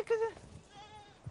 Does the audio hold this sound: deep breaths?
no